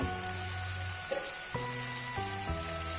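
Curry leaves crackle and sizzle in hot oil with spices for an ash gourd and egg bhujia, a steady close fry with a few brief spits and pops.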